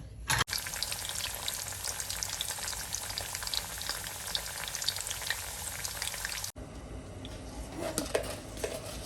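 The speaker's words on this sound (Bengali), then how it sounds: "আলুটাকে একটু ফ্রাই করে নেব।" Potatoes tinted with saffron color frying in oil in a pan for Bangladeshi kacchi biryani, a loud steady sizzle with occasional stirring scrapes, cut briefly mid-clip and continuing more softly afterward.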